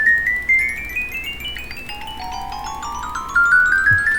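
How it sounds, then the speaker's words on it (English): A Minecraft redstone note-block bell plays a bright, ringing melody of clear chiming tones, first stepping upward in pitch, then dropping lower and climbing again, each note struck and decaying, with no talk. "Actually, my favorite will be a bell."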